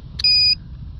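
A single short electronic beep from an automotive circuit probe touching ground, clear and steady for about a third of a second, preceded by a faint click over a low background rumble.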